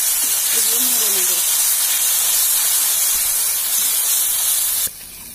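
Tomatoes and spices for a chickpea and pea ghugni are stirred in a hot pan, giving a loud, continuous close-up hiss of sizzling that holds steady and then cuts off abruptly near the end.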